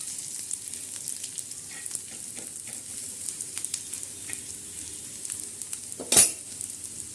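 Black kala masala dry-roasts in a pan for a mundi curry, giving a soft, faint crackle with light scattered ticks, then a sharp metallic clank of a utensil near the end.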